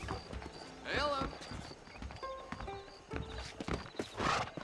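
Horse hooves clip-clop in the Red Dead Redemption video game, several uneven hoofbeats close by with a whinny near the start, while someone speaks over them.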